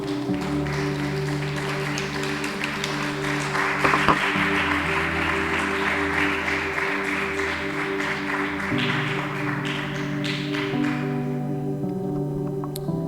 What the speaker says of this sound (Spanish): Dale otro aplauso al Señor